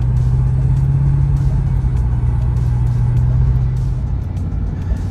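A 1983 Datsun 200SX convertible drives along the road with a steady engine drone and road rumble, loud and close throughout.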